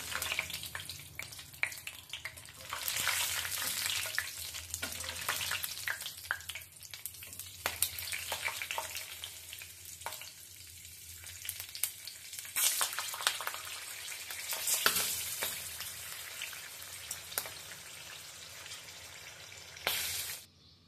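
Green chillies deep-frying in hot oil for a Bengali potato fritter snack, a quiet continuous bubbling sizzle that swells and fades with occasional stirring clinks, no talking.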